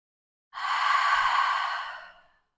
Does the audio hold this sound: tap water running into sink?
no